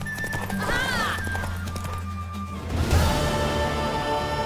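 Hooves clatter in a fast galloping rhythm with a horse whinnying, under a busy mix of music and sound effects in the video game The Witcher 3: Wild Hunt.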